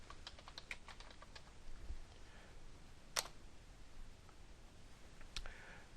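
Typing on a computer keyboard, with close, quick key clicks in an irregular rhythm and occasional sharper louder taps, heard alone in a quiet room.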